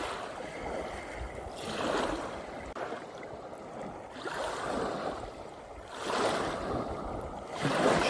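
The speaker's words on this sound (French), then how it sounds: "Je te laisse avec cette douce mélodie des vagues sur le rivage." Gentle waves lapping on a shore, a steady broadband wash that swells and recedes in slow surges about every two seconds, close and moderately loud, with no voices.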